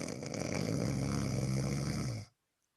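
A person imitates the snoring of a sleeping character during a tabletop fantasy role-play game, producing one long, raspy, rumbling snore that holds steady for about two seconds and then cuts off into silence.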